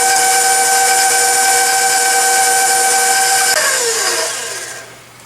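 A stand mixer beating chocolate cake batter runs with a loud steady whine and hiss, then its pitch slides down as the motor winds to a stop.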